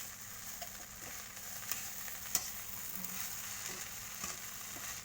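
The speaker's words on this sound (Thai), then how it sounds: "ใส่ผักชีลงไปแล้วก็ผัดต่ออีกนิดหน่อยนะคะ" Fried rice with fresh coriander being stir-fried in a pan, a steady soft sizzle with a few sharp clicks of the spatula against the pan.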